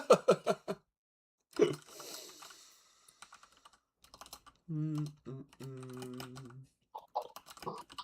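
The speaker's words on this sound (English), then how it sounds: "wait for Elijah to finish typing there" Rapid bursts of keystrokes on a computer keyboard, clicking in short clustered runs, close and clear, with a voice speaking and a cough in between.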